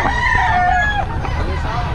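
A fighting rooster at a gamefowl seller's farm crows loudly and close, several drawn-out calls overlapping with other birds, over a low background murmur.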